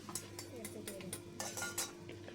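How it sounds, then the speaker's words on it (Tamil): Dry dal lentils tipped into a pan of sautéed aromatics on a low flame for dal fry, then stirred: a quiet run of spoon scrapes and light metal clinks coming in short, irregular bursts. "பருப்பை சேர்த்து நல்லா கிண்டி விடலாம்"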